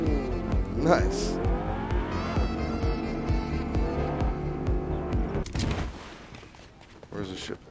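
Car driven in the video game Fortnite, with a steady engine drone and rising rev tones, brief tire squeal, then a rougher crash-like burst near the end, all under continuous excited talk.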